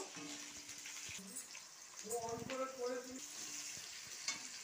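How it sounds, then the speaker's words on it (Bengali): Gentle sizzle of capsicum and onions stir-frying in a pan for chilli chicken, with scraping stir sounds from a spatula; a voice speaks briefly in the middle. "ক্যাপসিকামগুলো একটু নাড়বো"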